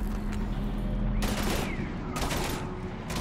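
Gunfire in the video game Mass Effect 3 comes as two dense bursts of rapid shots over a constant rumbling battle background, loud and close, with brief shouted voices nearby.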